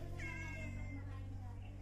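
A pet cat gives a single short meow, rising then falling, close and quiet over a low steady hum.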